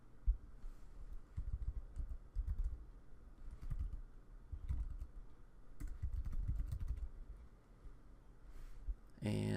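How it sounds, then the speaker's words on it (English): Soft clicks and taps from a computer keyboard come in short uneven bursts, faint and close in a quiet room, with a louder thump at the end. "So I'll just type in click here."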